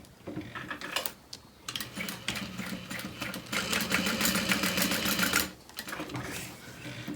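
A sewing machine stitching handbag strap connectors runs in steady mechanical bursts, stopping briefly and restarting, with one long continuous stretch of close, whirring needle chatter.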